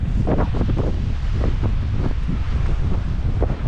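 Strong southwest wind roars and buffets the microphone at Altınkum beach in Edremit, Türkiye, with surf rumbling underneath. No one speaks.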